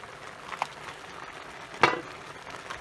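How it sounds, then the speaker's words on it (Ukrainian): Soft bubbling and simmering from a pot of corn boiling, low and steady, with a couple of brief clinks close by. "закипіла наша кукурузка, все, вона кипить"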